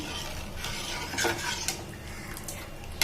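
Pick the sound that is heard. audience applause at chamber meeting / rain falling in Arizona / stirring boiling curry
stirring boiling curry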